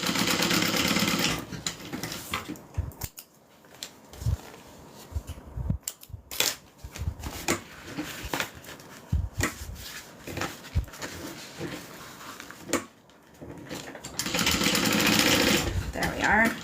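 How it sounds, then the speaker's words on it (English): A sewing machine stitches down the opened seam allowances of fabric for a bag, its motor running in loud bursts that start and stop at the beginning and end, with quieter handling noises between them. "I'm just going to open them up and sew them down"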